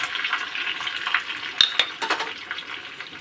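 Coconut masala with mustard seeds, cumin and curry leaves sizzling in a pan, a steady bright crackle with two sharp utensil clinks partway through.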